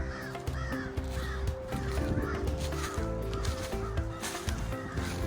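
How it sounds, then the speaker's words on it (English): Birds call outdoors in a natural setting, a steady layered chorus with repeated harsh caw-like cries over a dense, continuous background, moderately loud throughout. "listening to the sound of the birds"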